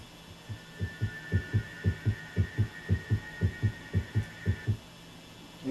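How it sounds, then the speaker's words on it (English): A heartbeat thumps in a steady, regular rhythm of paired beats, about fifteen pulses in a row, low and muffled over a constant hum, then stops. "thing got a heartbeat."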